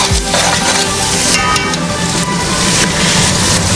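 Black pepper, cumin seeds and bay leaf sizzle in hot oil in a pan for a vegetable pulao, a loud, continuous frying hiss heard close up with faint stirring and no talking.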